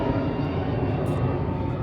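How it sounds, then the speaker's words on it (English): Airplane engine drone passing overhead outdoors, a steady loud broadband roar that fills the whole clip with no breaks. "Wait for the plane."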